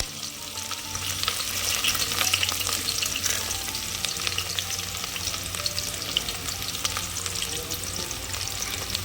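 Onion and green chilies fry in oil in a pan for an okra curry, a continuous close sizzle with soft stirring noises, steady and fairly loud throughout.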